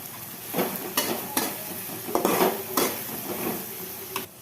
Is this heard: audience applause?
no